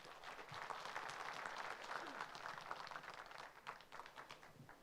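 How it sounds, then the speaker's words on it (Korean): Audience applause fills a book launch event, steady clapping from a crowd that swells and holds for several seconds before thinning out, with faint murmuring underneath. "큰 박수 부탁합니다."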